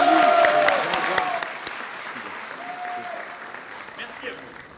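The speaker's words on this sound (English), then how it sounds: "So there you have it, some applause for Emmanuel Macron." A crowd applauds French President Emmanuel Macron at a Renault site, scattered sharp claps over a dense wash of applause that slowly fades, with voices and calls heard through it.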